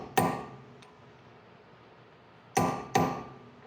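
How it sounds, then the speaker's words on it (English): Three sharp metallic hammer strikes on a flat punch, staking the axle nut on a 2004 Honda Accord, close and loud. The first hit comes alone and the last two follow in quick succession, with ringing decays between them. "So I'll start with a flat punch."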